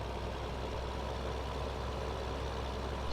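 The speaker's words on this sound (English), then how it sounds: "you compact it by driving over it with the tractor." A tractor in Farming Simulator 15 driving back and forth over silage to compact it, a steady, unbroken low engine drone at moderate level with no talking over it.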